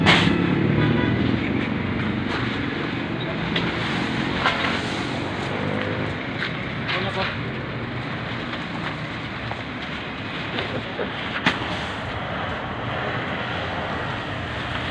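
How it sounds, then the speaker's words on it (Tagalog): Traffic beside a highway, a constant broad roar of passing vehicles with wind buffeting the microphone, steady and fairly loud with no clear breaks. "Nandito kami ngayon sa tabing highway."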